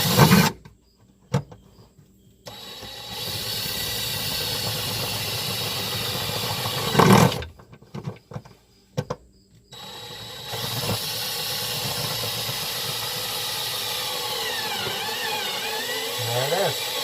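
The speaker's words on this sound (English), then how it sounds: "take the drill head, get her in there, and start off slow" Power drill boring a bolt hole during an on-board marine charger installation, starting slow: steady mechanical whine in two sustained runs separated by a short gap, close and fairly loud.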